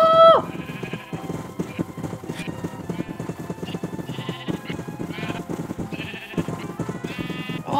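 Sheep bleating in the Minecraft video game, repeated short tonal bleats over a busy, steady bed of game sound and clattering effects that run throughout.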